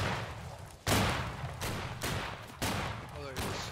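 Musket volleys crack out in a Battle Cry of Freedom battle, four or five loud, sharp shots spaced about a second apart over constant background battle noise.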